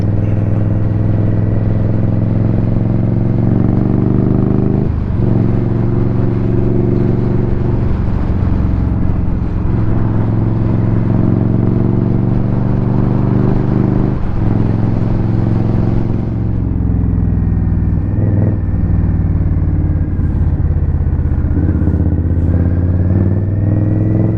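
An Indian Scout Rogue motorcycle on a morning commute to work, its engine a steady, loud drone with shifting pitch as it rides along, with no talking.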